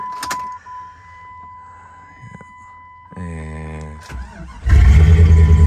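A Jeep Grand Cherokee ZJ with a 5.9 V8 is started with a key: a chime tone and key jingle, then a whirring starter crank, and the engine catches into a loud, steady idle roar.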